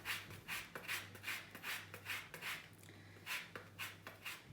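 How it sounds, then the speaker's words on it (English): An orange's zest being grated, a close, rhythmic scraping with about a dozen evenly spaced rasping strokes, fairly quiet and with no talking. "I'm just going to grate the zest in."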